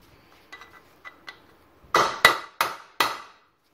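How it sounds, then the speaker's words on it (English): Impact wrench hammering on a corroded Johnson Evinrude 20-35 HP outboard gearcase: a few light metallic taps followed by four loud, sharp ringing impacts in quick succession. "I think I'm going to try the impact again."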